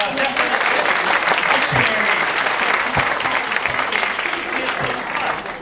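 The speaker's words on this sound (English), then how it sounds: "A round of applause for him." Audience applause at an improv comedy show, a dense, steady wash of clapping that carries loudly throughout, with some voices and whoops mixed in near the start.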